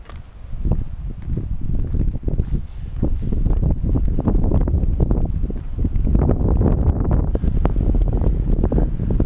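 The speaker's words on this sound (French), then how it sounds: "Le vent se lève, donc la mer se lève également" Strong wind gusts buffet the microphone over a rising sea at Cap Canaille near Cassis, a dense, continuous roar with rustling and surf churning beneath.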